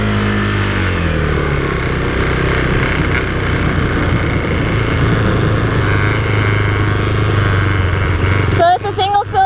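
A KTM 390 Duke with a single-cylinder 372 cc engine runs loud and close in a steady droning tone. Its pitch eases down early, then holds, with wind rush and a voice near the end.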